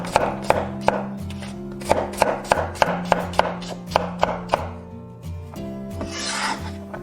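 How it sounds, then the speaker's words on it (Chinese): A knife slices onion into strips on a cutting board in a kitchen, making a quick series of crisp, close chopping taps in an uneven rhythm that thins out toward the end. "洋葱切丝。"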